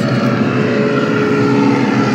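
A Cessna 206 seaplane's piston engine and propeller drone steadily and loudly throughout, a dense continuous roar with no speech.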